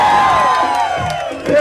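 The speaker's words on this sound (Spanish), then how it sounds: "¡Aplausos para el tercero!" Crowd at a contest for the third contestant, loud close cheering with whoops and shouts, voices swelling and dipping briefly before rising again.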